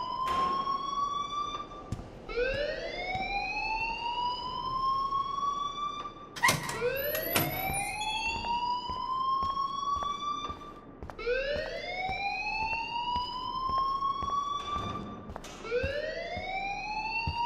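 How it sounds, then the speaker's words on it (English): Alarm in the video game Life Is Strange, a loud siren-like wail that rises repeatedly in sweeping cycles for the whole stretch, a sharp clatter partway through, no speech. "please turn off that alarm since that's your job"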